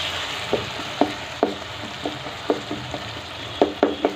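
Potatoes and fenugreek leaves frying in oil with spices, a steady sizzle broken by a series of sharp scraping clicks as a spoon stirs the pan, close and alone with no talking.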